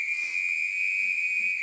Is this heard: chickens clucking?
no